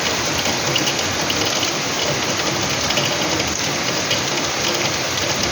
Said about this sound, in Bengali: দেখো বৃষ্টি হচ্ছে মুষলধারে